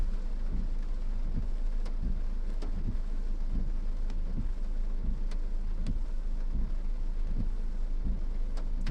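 A thunderstorm with rain and wind roars steadily, with rumbling low thuds recurring at irregular intervals beneath a constant hiss of rain and wind buffeting the microphone.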